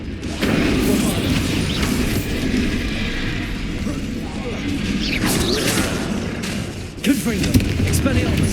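Bombarda blast spell in the Hogwarts Legacy video game, a loud booming explosion amid a busy, continuous battle din of crashes and impacts.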